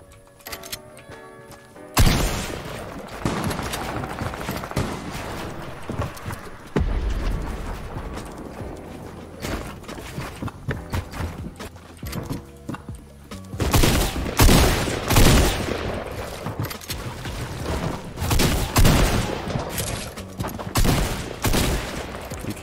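Video game gunfire rings out in a solo match, with bursts of rapid shots and scattered single cracks that come in loud clusters, especially toward the end, without talking.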